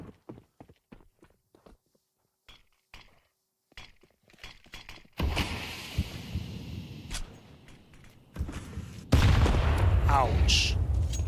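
Counter-Strike match audio: a run of scattered footsteps and clicks, then a grenade explosion and gunfire bursting out loud, a sharp second blast following a few seconds later, with talking faintly underneath.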